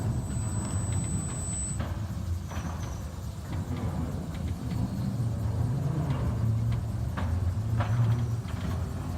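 London's Mail Rail underground postal railway train on a ride through its tunnels, a steady low rumble and rattle throughout with faint clicks and squeals, fairly quiet and unbroken.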